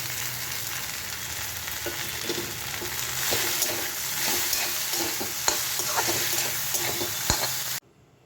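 Deboned fish fries in a hot pan, a dense, close sizzle with occasional stirring clicks and pops, steady and loud until it cuts off abruptly at the end.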